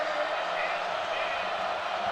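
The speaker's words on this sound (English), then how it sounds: "listen to that crowd roar" A stadium crowd at a Cincinnati Bearcats versus Pittsburgh Panthers college football game roars in a steady, dense wash of noise, with voices blending into the roar throughout.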